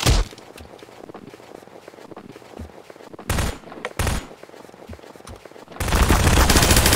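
Submachine gun fire in Garry's Mod, with scattered single shots early on, two short loud bursts midway, then a sustained rapid volley through the last second, heard close and without talk.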